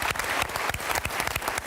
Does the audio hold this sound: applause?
yes